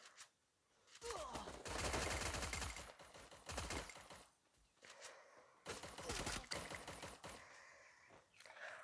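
Thompson submachine gun firing in a multiplayer video game training mode, two long rapid automatic bursts with shorter volleys between them, close and loud.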